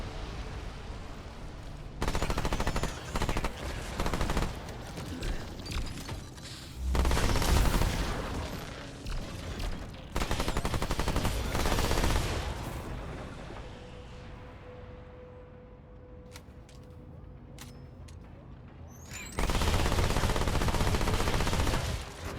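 Bursts of rapid, loud gunfire from a weapon in the video game Remnant 2, several sustained volleys separated by quieter gaps with faint tones and small effects.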